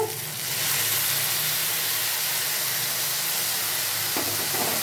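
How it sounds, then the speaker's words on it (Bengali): Potatoes and okra sizzle steadily in hot oil with a dense, even hiss and crackle heard up close, continuous and alone with no talking. "আলু আর ভেন্ডিগুলো এইভাবে ভাজা ভাজা মতো হয়ে যাবে"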